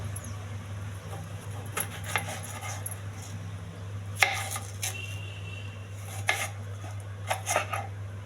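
Raw plantain, its flesh sticky, chopped into small pieces with a knife in a home kitchen: sparse, quiet taps and clinks against a board, a few sharper knocks, over a steady low hum.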